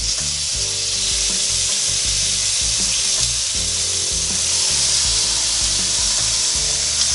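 Peaches sear on a NuWave Primo grill with a loud, continuous sizzle and crackle, overlaid by a repeating low rhythmic hum, with no talk.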